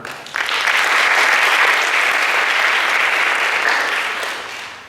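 An audience at a university event with an international delegation bursts into loud, sustained applause that swells quickly, holds steady and then tapers off near the end.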